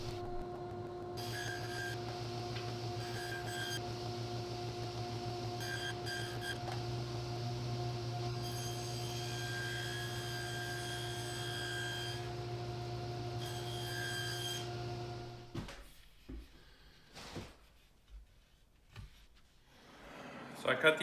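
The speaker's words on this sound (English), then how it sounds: "So I'm gonna head over to the table saw now." Table saw cutting walnut into small strips in a workshop, a steady humming whine with a sustained rasp of blade on wood for most of the stretch before the motor cuts off and the shop goes quieter.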